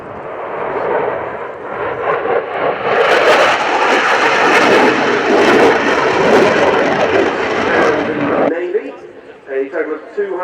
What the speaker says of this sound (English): the aircraft basically describing a square in the sky with rolls each